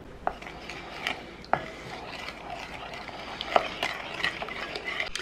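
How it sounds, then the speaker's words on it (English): A spoon stirs wet ingredients with maple syrup in a bowl for a pumpkin chocolate oatmeal bake, making soft scraping swirls with occasional sharp clinks against the bowl at close range. "Stir this all together till it's nice and combined"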